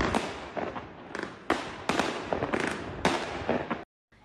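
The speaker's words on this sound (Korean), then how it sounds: "도심 곳곳에선 새벽까지 폭죽이 터졌습니다." Fireworks and firecrackers burst repeatedly in the streets of Shanghai at night, a loud crackling volley of sharp pops in uneven clusters that stops abruptly at the end.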